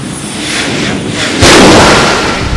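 At a hot rod reunion drag race, a drag racing car's engine revs up as it builds boost, a loud, dense roar that swells midway to an even heavier, sustained blast close by.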